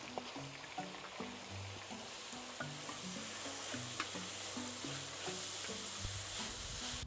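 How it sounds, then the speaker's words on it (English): A large onion sweating in a pan for discada tacos, giving a steady close sizzle with frequent stirring scrapes, while a low melodic music line plays underneath throughout. "I'm also adding the onion, the large onion. Let those sweat down just a little bit."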